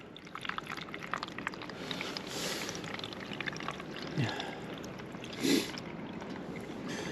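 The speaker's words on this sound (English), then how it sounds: "The reason why I'm pouring that water slowly is that I don't want that water to rush quickly through the moss" Dirty water poured slowly into a primitive moss filter in an outdoor bushcraft setting gives a soft, close trickling and splashing, quiet and continuous, with one or two brief louder splashes near the end.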